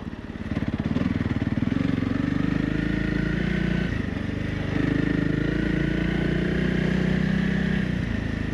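A Honda CRF 300 Rally motorcycle engine drones loudly and continuously off-road on sand, its pitch wavering slightly as the bike churns along at steady speed.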